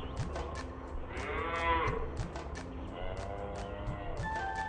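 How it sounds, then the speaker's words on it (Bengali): A cartoon cow lets out a long, loud moo while running, accompanied by rapid rhythmic hoofbeat-like thumps and clatter. "গরুটা দেখছি এখন দৌড়েই চলেছে"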